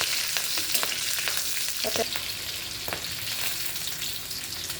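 Oil sizzles and crackles steadily as green chilies fry, with a few sharp clicks and scrapes from stirring in the pan.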